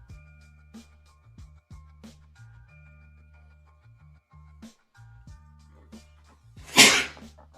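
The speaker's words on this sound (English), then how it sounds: "don't know where that sneeze came from" A single sharp, loud human sneeze bursts out near the end over a quiet backdrop of soft low tones during a baseball play-by-play broadcast.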